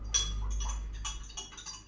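Several bright glass clinks ring out in quick succession, clear and close, set against a steady low hum with no talking.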